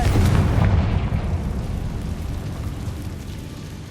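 A Confringo spell explodes in Hogwarts Legacy as a loud, close, deep booming blast that rumbles and slowly decays over a few seconds, with no voices present.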